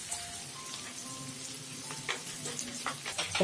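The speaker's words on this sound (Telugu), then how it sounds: "1 రవ్వ ఉల్లిపాయ ముక్కల్ని వేయించుకుని" Onion pieces frying in oil with cumin and fennel, a faint, fine crackling sizzle with light scattered pops and a couple of stirring scrapes near the end, quiet and close.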